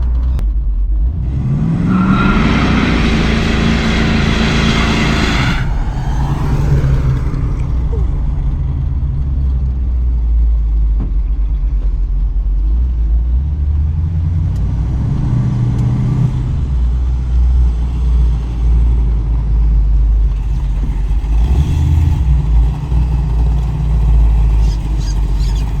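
A 1970 Plymouth Cuda with a 440 V8 rumbles while driving. A loud rev climbs early, then the engine settles into a steady low drone with a few throttle swells. No one speaks.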